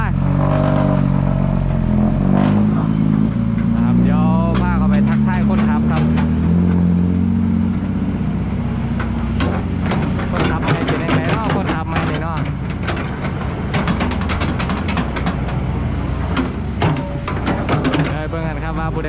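A Kobelco SK200-8 excavator scoops and loads full buckets into a truck. Its diesel engine rumbles loudly and revs with each cycle, with clanking and clattering as it works, while someone talks over the machine throughout.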